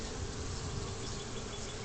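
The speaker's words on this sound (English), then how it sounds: "For a swarmy bunch of bees," A dense, continuous buzz of swarming bees fills a top bar hive, close and steady throughout with no voices.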